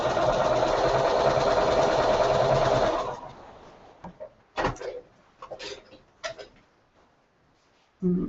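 A sewing machine stitches Y seams in a quilt with a loud, even mechanical whir for about three seconds. It then stops, followed by scattered sharp clicks and knocks of handling, with one more brief burst of stitching at the end.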